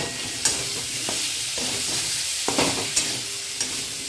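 Potatoes fried earlier in the fish-frying oil are tipped into a turmeric-and-salt fish curry and stirred, giving a steady sizzle broken by several sharp spatula scrapes and clacks against the pan.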